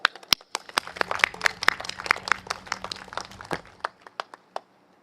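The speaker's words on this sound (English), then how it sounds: "give them a round of applause" A crowd at an outdoor political opposition rally gives a round of applause, heard as distinct separate claps that build briefly, then thin out to a few scattered final claps and silence.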